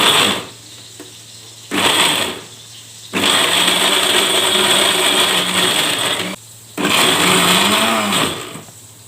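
A blender grinds a coarse sambal of petai beans and anchovies in a home kitchen, running loud in three bursts with short quiet pauses between them, the motor whine steady through each run.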